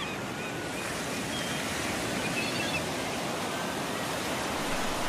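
Steady broadband wash of water waves surging after a fall into the water, a continuous rushing roar with faint wind, close and fairly loud throughout with no distinct splashes.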